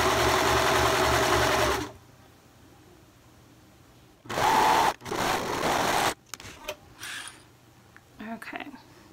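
A sewing machine stitches a sweater sleeve seam in bursts: a steady motor drone for about two seconds, a pause, another run, then short stops and starts, with a voice speaking during the quiet gaps.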